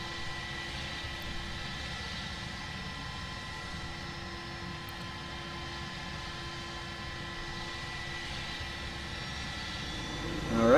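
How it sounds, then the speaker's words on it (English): Engines of a King Air C90 twin turboprop starting up on the ground, heard from inside as a steady drone with a high whine and constant low hum, swelling slightly louder at the very end. "We can start our engines up."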